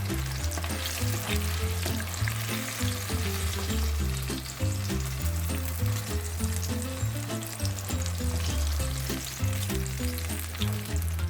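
Fried eggplant added into sizzling masala in a pan, a continuous loud close frying hiss with irregular stirring and spatter throughout, no talk.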